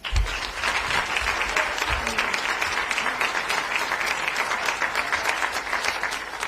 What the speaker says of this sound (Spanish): así que un fuerte aplauso para Pedro Garrido.